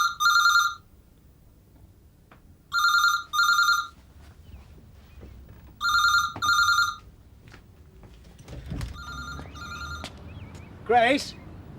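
An old telephone bell rings in sharp double bursts, three times in a row, loud and close in a quiet room, followed by a faint fourth ring further off, with muffled movement and a voice at the end.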